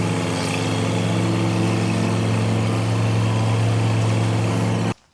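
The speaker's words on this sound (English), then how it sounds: "I just scoot them around and keep mowing." Steady engine drone of a 25-year-old Grasshopper zero-turn lawn mower running while mowing, loud and close throughout with a constant low hum, then cutting off abruptly at the end.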